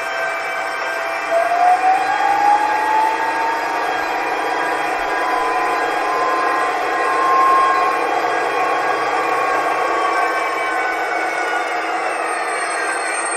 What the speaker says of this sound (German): Und als letztes zeige ich jetzt dann noch das Geräusch beim Abbremsen. Das Bremsenquietschen kann man auch natürlich deaktivieren.